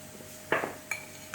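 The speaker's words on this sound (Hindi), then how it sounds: "Bring it together with the help of a fork initially." A fork knocks and scrapes against a bowl while mixing atta biscuit dough with ghee, salt and baking powder: a couple of short clinks and scrapes, close and fairly quiet.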